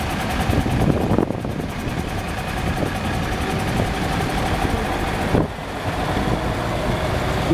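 A Perkins 3.3 diesel idles in an old Volvo service van, a loud, steady, close rumble with one brief dip partway through and no talk.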